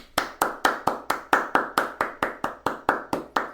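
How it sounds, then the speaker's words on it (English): One person claps their hands in a steady, even rhythm, about fifteen sharp crisp claps in a row, close and fairly quiet, with no voices. "That's extended Roger Goodell applause."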